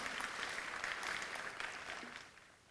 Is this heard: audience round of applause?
yes